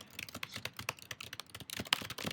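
Rapid, uneven clicks from a computer keyboard sound up close as someone types, the taps bunching into quick bursts with brief pauses, alone and fairly quiet.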